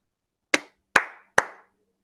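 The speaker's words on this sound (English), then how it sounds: "Why are you clapping 3 times?" Hands clap three times in an even rhythm, each sharp crisp clap close and distinct against silence, with short decaying room echo.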